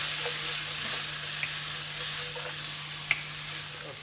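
Zucchini sizzles steadily in a hot pan, a close continuous hiss broken by a few light taps and clicks as the pieces are tossed.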